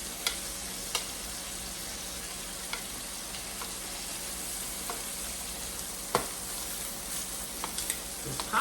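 Shrimp fry in a pan for shrimp fried rice, giving a steady close sizzle with scattered sharp pops and crackles throughout, no one talking.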